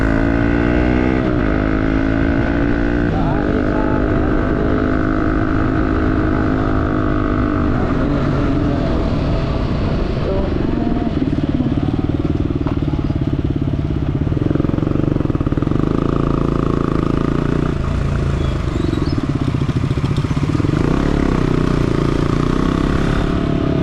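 Motor vehicle riding along a road on a trip to a mango orchard, a steady loud engine drone with road rumble running throughout, shifting pitch slightly as it moves.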